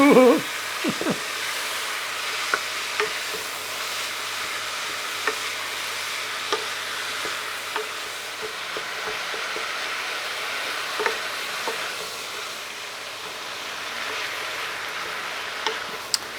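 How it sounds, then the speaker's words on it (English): Meat browns in a pan for a Sicilian baked pasta, a constant close sizzle broken by occasional scrapes and taps of a utensil, with no one speaking. "What we're doing now is getting the meat browned off a little bit."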